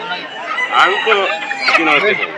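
Local country chickens cluck and a rooster crows close by at Dhara Bazar poultry market in Haluaghat, Bangladesh, layered over the busy murmur of a crowded market with voices in the background.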